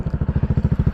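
Honda PCX scooter with stock silencer idles through its exhaust pipe, a close, even putter of rapid regular pulses, about thirteen to the second, alone with no talk.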